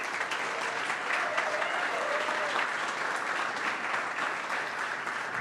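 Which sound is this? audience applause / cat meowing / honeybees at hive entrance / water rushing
audience applause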